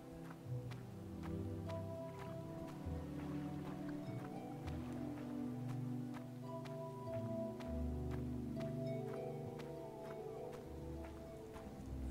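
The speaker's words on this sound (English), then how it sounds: "And then we will catch the boat." Boat travel on water in a video game: a low, steady droning hum with lapping water and soft ambient tones continues evenly throughout, with no talking.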